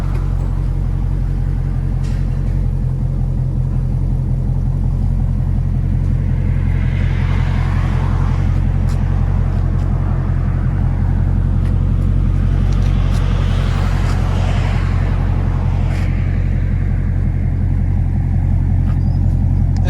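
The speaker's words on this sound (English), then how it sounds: "That idle sounds really well." Deep, steady idle of a 2017 Dodge Charger 6.4L Scat Pack with dual exhaust and muffler delete, a loud continuous low burble that never lets up, with no talking.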